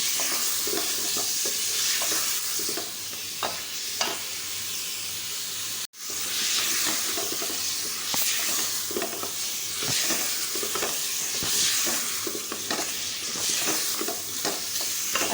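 Mutton is stir-fried (bhuna) in a pan with a loud, steady hiss and sizzle, punctuated by frequent scraping stirs, with a brief drop-out near the six-second mark.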